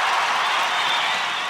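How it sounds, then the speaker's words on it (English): Dense, steady applause from a studio crew or small audience on a podcast set, continuous clapping with no talk over it, holding level before easing slightly at the end. "Can we get an applause,"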